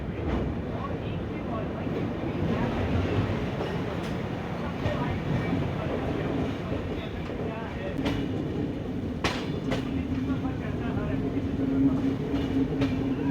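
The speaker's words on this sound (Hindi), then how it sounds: "और अभी भी हमारी ट्रेन को देखिए कर्व ही ले रही है।" Grand Trunk Express train rolling through a curve, a steady loud rumble of wheels and carriages with periodic clicks and a rising wheel squeal near the end.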